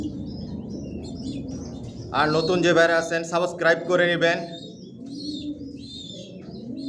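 Johnson-line racer pigeons coo softly in a loft. Someone speaks loudly in the middle and covers the cooing, which continues faintly before and after his voice.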